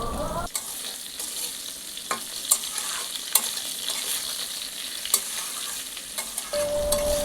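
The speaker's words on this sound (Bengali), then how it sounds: "রাঙা আলু আর গাজর দিয়ে দেব, তারপর ডাঁটাটাও দিয়ে দেব, কাঁচা লঙ্কা দেব কয়েকটা, দিয়ে ভালো করে ভাজবো" Potatoes, sweet potato, carrot, stalks and green chillies frying with salt in a pan for shukto, a continuous close sizzle broken by scraping stirs, with no talking.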